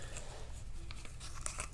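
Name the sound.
handling a plastic accessory bag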